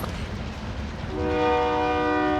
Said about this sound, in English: Hey, stop with all the horns, train.